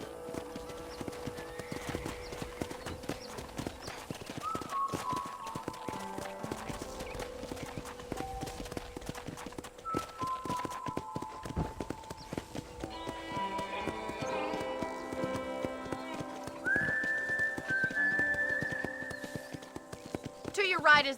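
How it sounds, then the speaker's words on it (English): Horse hooves clip-clop steadily in the Red Dead Redemption video game, a measured walking rhythm under spoken dialogue and soft music, with a brief whinny. "I picked out a fine horse for you."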